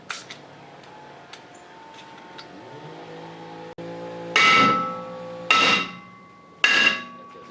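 A Subaru Forester wheel bearing takes three loud, ringing metal hammer blows in the second half, each decaying over about a second, after quieter taps and a brief motor whine in a garage.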